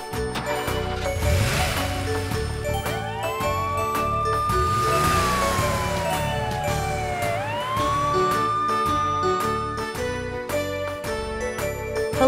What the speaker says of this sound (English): Police van.